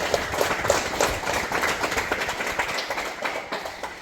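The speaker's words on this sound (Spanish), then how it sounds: "Fuertes aplausos para Pedro" Applause from an audience at a school civic program, a dense patter of clapping that holds steady and then thins toward the end.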